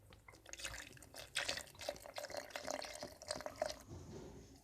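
Milk pours into a blender jug for a banana shake, a near, trickling, dripping stream of liquid that swells and wavers, with no voice over it.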